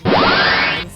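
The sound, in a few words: crystal tank laser attack in video game Commander Wars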